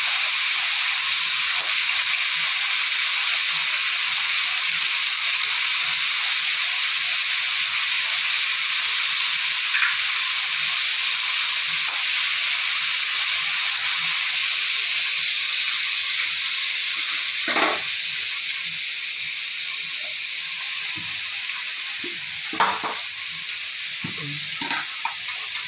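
Eggs frying and being scrambled in a pan for egg noodles, a steady bright sizzle and hiss throughout, with a few soft scrapes and taps of stirring near the end.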